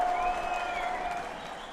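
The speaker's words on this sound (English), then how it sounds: "You hear the crowd." Stadium crowd at a rugby league match between the PNG Hunters and Souths Logan Magpies in the Intrust Super Cup, a steady broad roar of applause and cheering with a faint whistle-like tone near the start.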